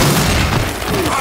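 A heavy gunshot blast from the shooter video game Gears 5, a loud dense boom filling the whole short moment with rumbling low end and no gap.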